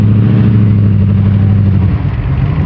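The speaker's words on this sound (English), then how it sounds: "Nice Mustang." A Ford Mustang muscle car rumbles loud and close at an outdoor car show, its deep steady engine idle droning throughout with a slight dip near the end.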